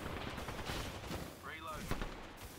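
Automatic gunfire in a first-person shooter video game, rapid bursts mixed with game effects and a chirping sound, continuous busy texture with faint talk underneath.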